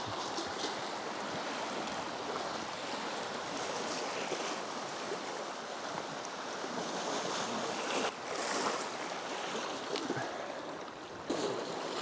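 Sea waves wash onto a beach in a constant, fairly faint hiss. Soft swells and a few brief rushes of surf break through, with some wind buffeting the microphone.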